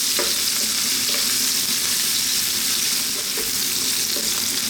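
Sliced onion frying over maximum heat for a Chinese sweet and spicy fish dish, a loud, steady broadband sizzle with occasional stirring clicks throughout, no voices.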